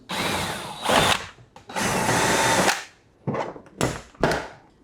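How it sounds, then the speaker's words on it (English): Short bursts of a power driver turning a T25 Torx bit to back screws out of a car's interior trim panel, an Alfa Romeo Stelvio, several loud whirring runs separated by pauses, close up with no talking. "This is a T25 Torx bit that you're gonna need to remove those."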